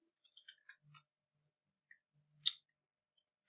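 A handful of quiet, sparse keyboard clicks tap out irregularly, separated by silent pauses, with one sharper keystroke standing out.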